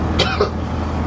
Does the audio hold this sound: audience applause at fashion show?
no